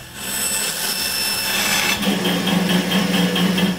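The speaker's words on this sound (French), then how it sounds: "J'ai ensuite découpé la forme sur ma scie à ruban." Steady, loud band saw whine with a continuous rasping edge as the blade cuts through a wooden intarsia plaque, unbroken for the whole stretch with no voices.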